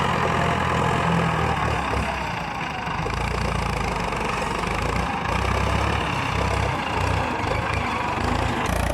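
A tractor engine idles steadily and close by, with a constant low rumble and a faint knocking throb. It runs alone with no talking.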